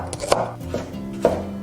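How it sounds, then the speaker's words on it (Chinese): Knife chopping red shallots on a board, a handful of sharp, uneven close taps with short pauses between them. "切一些红葱头"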